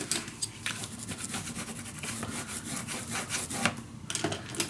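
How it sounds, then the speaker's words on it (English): Paper being burnished down for a handmade mini album, a steady close rubbing and scraping that runs continuously in quick back-and-forth strokes, with no talk. "burnish it down"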